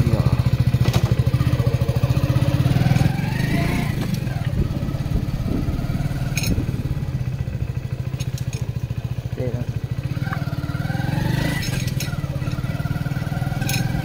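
Hero Splendor Plus BS6 motorcycle riding on the road, its steady engine drone running continuously near the microphone with faint clatter and wind, without talk.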